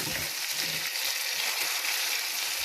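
Salted butter melting into hot caramel in a pan, a steady close sizzle and bubbling with faint stirring, loud at the start and then settling into an even hiss.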